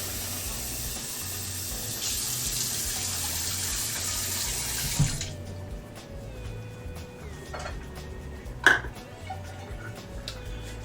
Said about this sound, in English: I'm going to add a half cup of water back into this rice.